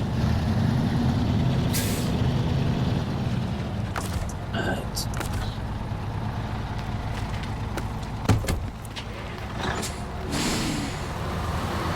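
A truck in SnowRunner rumbles steadily with a low engine drone while someone talks over it. Short hissing bursts and clunks cut in partway through, followed by a sharper knock.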